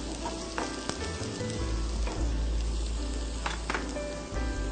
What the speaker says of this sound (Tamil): இதை வந்துட்டு ஃப்ரை பண்ணிட்டு ஆனியன் போட்டு நல்லா வதக்குறீங்க.